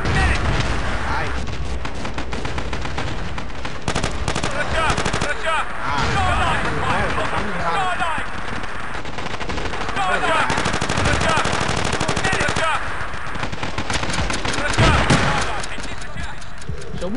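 Gunfire in the video game Battlefield 2 during a 20 vs 20 match on a town map: dense bursts of automatic fire, single shots and booming blasts, loud and nearly continuous, with voices mixed in.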